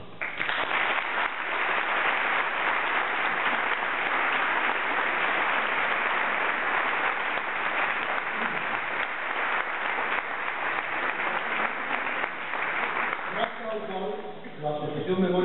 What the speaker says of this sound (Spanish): Antonio Iglesias, para el cual pido un saludo y un aplauso